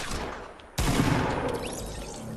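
Gunfire in a squad-based video game match: a quiet lull broken by a sudden loud burst of shots that rolls into sustained, dense firing and echo, with no voices over it.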